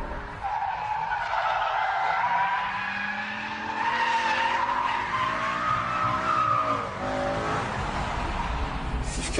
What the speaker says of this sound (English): Now lift off the throttle as we dive into the corner.